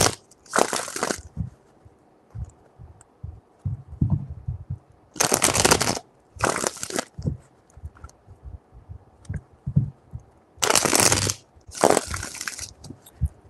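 Tarot cards are shuffled by hand in five sharp, crisp bursts of riffling, each a second or so long and close up, separated by quieter stretches of faint handling noise.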